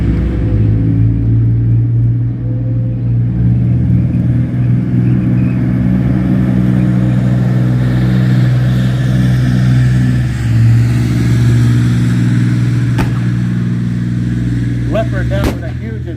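An M60 tank engine runs loud at a tank museum event, producing a dense, steady low rumble that never lets up, with a few sharp mechanical clanks and bursts near the end.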